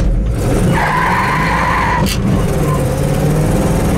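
A 1967 Chevelle SS, Granada gold, brakes hard with a loud, sustained tire squeal lasting about a second, close by over the rumble of the engine.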